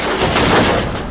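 A single loud, close gunshot from a handgun in the horror video game Until Dawn, a sharp, dense burst that decays within about a second with nobody talking.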